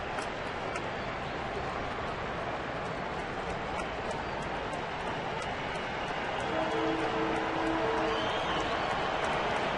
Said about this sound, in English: Crowd making some noise, some standing.